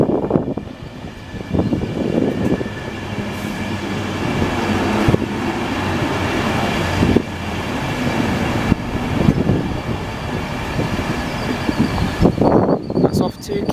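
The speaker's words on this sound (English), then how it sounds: "now arriving in is a Class 91 Virgin Trains East Coast service on its way to King's" A Class 91 Virgin Trains East Coast service, bound for King's Cross, pulls in at Stevenage on the East Coast Main Line, a loud steady rumble and rolling clatter of rail wagons with a brief voice mixed in.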